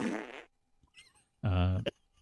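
A cow fart sound effect plays twice, a short raspy blurt followed by a longer, deeper, buzzing one, loud and close in an otherwise quiet podcast setting.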